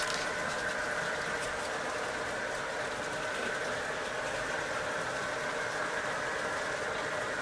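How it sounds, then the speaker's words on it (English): The small motor of a Kibri model windmill runs continuously, giving a faint, steady mechanical hum and whir with a thin tonal buzz. The sound stays even throughout, with no talking. "Test the motor."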